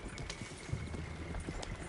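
Horse hooves clip-clopping in Red Dead Redemption 2, a steady stream of soft, close hoof beats over a constant outdoor ambient bed with no speech.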